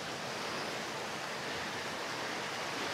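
A steady, dense rush of small waterfalls along a river, a broad continuous hiss of falling water at close range with no other sounds.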